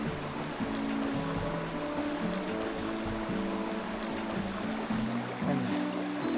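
Creek water flows steadily in a national park forest, a continuous rushing wash running from start to end with no voices.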